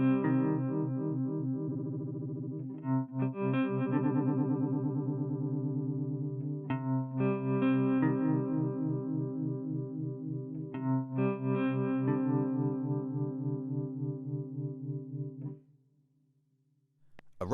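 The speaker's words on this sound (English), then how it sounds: "A rotary pedal, recreating the effect of a Leslie cab, where the sound spirals around in the stereo field" Guitar run through a rotary pedal emulating a Leslie cabinet, strumming sustained chords whose tone swirls and wobbles steadily, with a few chord changes over about fifteen seconds before fading to a low held note.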